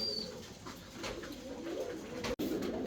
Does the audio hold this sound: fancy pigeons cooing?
yes